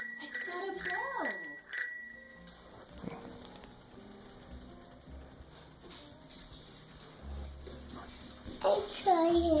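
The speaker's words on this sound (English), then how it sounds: "It's got a bell." A bicycle bell on a child's new Christmas bike rings in several quick bright dings at the start and again at the end, with children's voices and adult talk in between.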